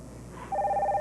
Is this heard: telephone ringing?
yes